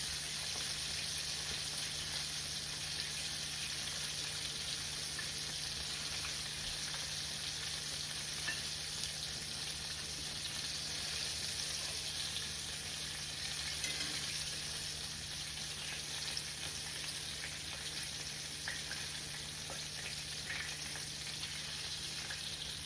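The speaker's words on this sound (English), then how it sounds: "Let's drain that oil off." Hot frying oil is drained off tender chicken strips, a steady, even sizzling hiss that runs continuously without pause, moderately faint and with no voices.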